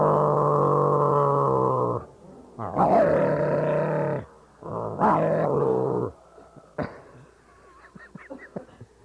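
A Vox Box electronic voice effect turns a performer's voice into dog-like growls and barks, heard as a long sustained buzzy growl followed by several shorter gruff bursts and then quieter, scattered noises.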